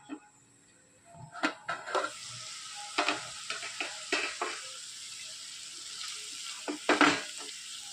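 Snake gourd, tomato and onion cooking together in a pan for a Kerala-style roast: a low sizzle broken by repeated scraping stirs and spoon knocks at irregular intervals, close by, with no voices.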